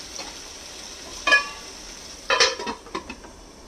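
Potatoes frying with salt in a covered pan for a poppy-seed (posto) dish give off a steady soft sizzle, broken by a few short clinks and scrapes of utensils against the pan.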